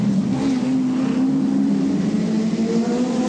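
Peter Brock's touring car races through the Wellington street circuit at the 1987 Nissan Mobil 500, its engine a steady, loud, sustained drone held at high revs throughout, with no voices over it.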